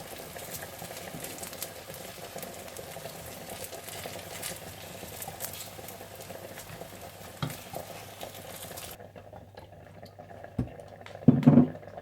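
Eggplant slices fry in hot oil, giving a steady soft sizzle and bubbling close up, with a few light clinks of a utensil near the end.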